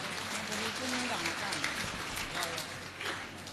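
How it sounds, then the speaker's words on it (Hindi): An audience at a religious discourse gathering claps in a steady, continuous wash of applause, with crowd voices mixed in throughout. "ताली बजाओ"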